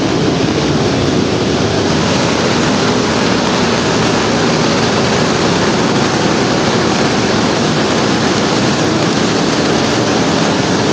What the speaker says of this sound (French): là il y a des cascades apparemment, on va aller voir ça. Ça fait du bruit en tout cas.